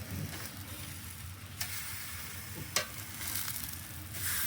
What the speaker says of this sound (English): All right, it's time to turn these steaks.